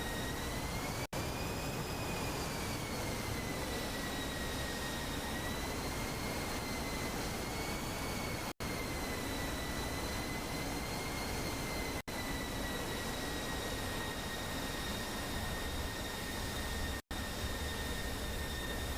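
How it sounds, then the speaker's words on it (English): Steady jet engine drone of an F-16 landing in the DCS flight simulator, a continuous even roar with a high whine, no talk. "And a cleaner F-16 landing you will struggle to find."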